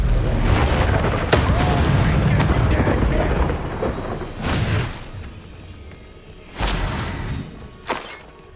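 A fire spell cast in combat in the video game Hogwarts Legacy: bursts of whooshing flame and crackling blasts over a dense, rumbling battle din, with several sharp flares toward the end and a voice shouting.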